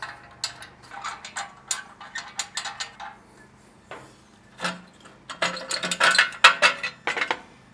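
A 1/2-inch ratchet wrench works on the mounting bracket bolts, giving bursts of quick clicking pawl ticks in short runs with pauses, close and crisp, no talk.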